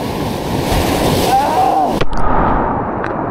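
Strong ocean waves surge and crash against a rocky shore, a loud, continuous churning roar with wind buffeting the microphone and a sharp break of surf partway through.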